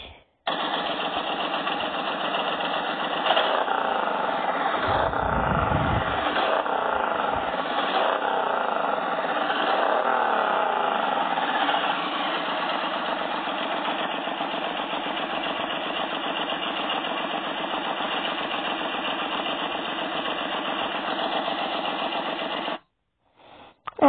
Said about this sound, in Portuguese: A próxima moto é a Suzuki Boulevard